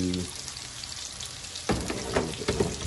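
Oxtails sizzle loudly in a pan as marinade goes in, with a dense crackling hiss. It briefly swells into sharper, louder spatters partway through.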